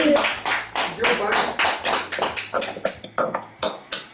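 A church congregation bursts into rhythmic applause, a close run of clapping bursts that grows sharper and more spaced toward the end, with voices speaking over it.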